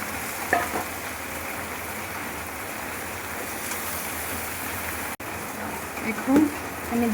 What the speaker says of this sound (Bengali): এখানে পেঁয়াজ রসুনটাকে খুব বেশি ভাজার দরকার নেই, একটু কালার চেঞ্জ হলেই আমি কেটে রাখা ডাঁটাগুলি দিয়ে দেবো।